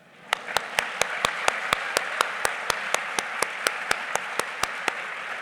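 An audience at a book festival opening address in Savannah applauds for several minutes' worth of seconds, a dense wash of many hands with a few sharp claps standing out at a steady brisk rhythm, fairly close and without talk.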